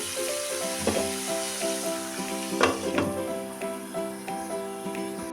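Spices and fish for a yogurt fish curry (doi katla) fry in a pan, a continuous close sizzle with occasional crackles and stirring clinks, and a faint tonal hum running underneath.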